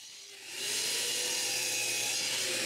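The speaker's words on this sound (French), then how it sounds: "Maintenant, je dois les couper aux bonnes dimensions." A power saw cutting thick, glued-up wood pieces to size in a woodworking shop, starting quietly and then rising into a loud, steady, continuous whine and hiss at close range.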